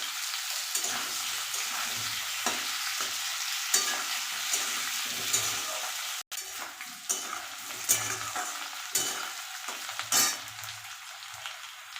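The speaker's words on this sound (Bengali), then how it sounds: "আলু আর ওলকপি আর একবার একটু ভেজে নেব" Potato and kohlrabi pieces frying in a pan for a fish curry, a continuous close sizzle broken by repeated stirring scrapes and light utensil knocks.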